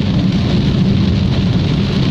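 Heavy rain pours down while driving on a road, a loud, constant wash of rain on the car with low road rumble beneath.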